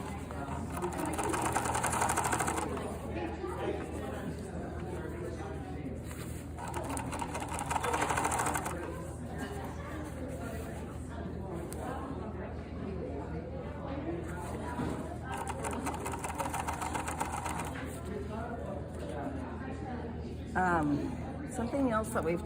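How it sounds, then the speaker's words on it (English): A sewing machine stitches a collar through foam onto a vest in three steady whirring runs, each a few seconds long, with conversation continuing throughout and between the bursts. "I'm sewing through the foam."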